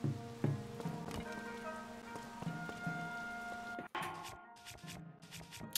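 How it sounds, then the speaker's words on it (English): Steady rain falls in a video game's wetlands area, a constant soft wash of drops with a background music bed and a brief cut near the end. "it's eternally raining"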